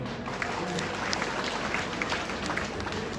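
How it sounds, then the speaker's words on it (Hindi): A seated crowd at a strike rally applauds a union leader's speech, dense steady clapping that fills the whole stretch, moderately loud, with faint voices mixed in underneath. "मैं चाहूँ कि कैलाश चौहान जी के लिए भी ताली चाहिए"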